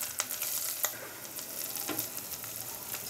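Grated coconut frying in half a spoon of ghee in a hot kadai, giving a steady, close crackling sizzle with a few sharper pops and faint stirring scrapes.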